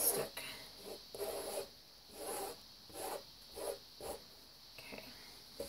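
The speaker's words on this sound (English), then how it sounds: "I'll use my little scraper." A small toothed scraper spreading acrylic paint on a pour painting, making soft rhythmic rasping strokes about once per second, close and quiet over a steady high-pitched background whine.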